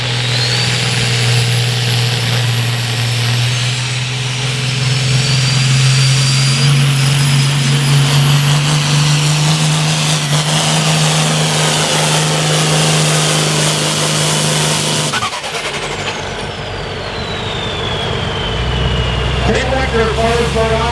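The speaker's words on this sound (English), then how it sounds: "want more RPMs on that Macon International as he comes off the line" International pulling tractor at a farm tractor pull, its engine roaring steadily at high RPM as it comes off the line, loud and sustained before easing off, with a crowd and announcer audible in the background.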